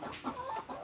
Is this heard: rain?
no